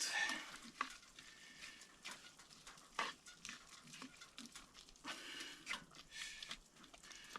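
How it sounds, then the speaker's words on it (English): A spoon scrapes and stirs food simmering in a pot on a winter camping stove, with a soft sizzle under repeated close scraping strokes and no talking. "Now this has to cook for a while more. I'm just gonna stir this a little bit."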